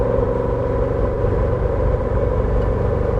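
A 1963 Chevrolet Corvette Stingray engine runs with a deep continuous rumble, loud and close, holding steady throughout without pause.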